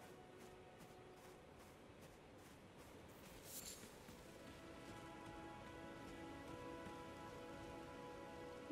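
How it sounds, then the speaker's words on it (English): Rain falls in Elden Ring, a faint, steady hiss of drops on surfaces with soft tonal game music rising in the background and a brief louder swell midway. "It's raining."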